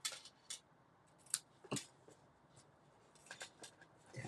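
Scissors snip through long ribbon ends on jumbo craft tags, several sharp close cuts spaced irregularly over quiet room tone.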